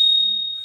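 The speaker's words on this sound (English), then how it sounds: "That's the bell." A scooter's bell gives a single sustained high ring that rings on steadily for under a second, close and clear, with a faint low murmur beneath it.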